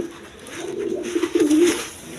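Pigeons kept for sale at a breeding farm produce a close, low, throaty coo that swells and wavers for about a second, standing out clearly against quiet surroundings.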